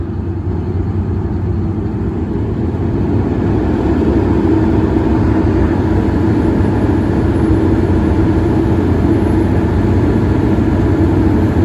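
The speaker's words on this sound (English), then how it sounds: "Once the 190 started, it takes a few minutes before it'll rev up." Hugg & Hall HH190 HighPower machine engine running with a steady, loud low rumble that holds an even drone throughout.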